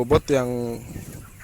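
A short burst of broiler chickens clucking, a couple of quick notes followed by a longer drawn-out cluck that fades into quiet.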